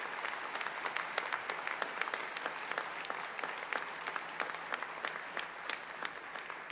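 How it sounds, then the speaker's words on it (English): Audience at a class of 2020 graduation ceremony clapping, sparse distinct handclaps forming a light, scattered round of applause, fairly quiet and somewhat distant. "Let's recognize those standing and those joining from home with a round of applause."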